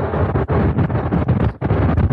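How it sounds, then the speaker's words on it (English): Strong, continuous wind buffeting roars across a microphone while riding a Bogist C1 Pro electric scooter at speed, briefly dipping twice before surging back, with no talking. "it's really windy"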